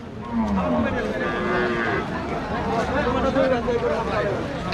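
At a Rajshahi cattle market holding bulls, cows, local Sahiwal and crossbred cattle, a cow gives a drawn-out, close moo over a background of crowd chatter and people talking.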